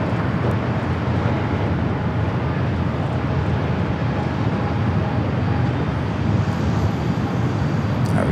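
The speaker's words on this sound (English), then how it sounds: "Cargo King, Flight 229, coming in from Shenzhen, a 777 freighter flying above us" Boeing 777 cargo freighter arriving from Shenzhen and flying overhead near Los Angeles airport, heard as a steady, broad, loud engine roar that holds without letup and has no talk over it.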